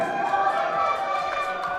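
Crowd at a powerlifting national championship meet cheering and rallying behind a lifter on his third attempt, a steady, loud wash of many voices throughout.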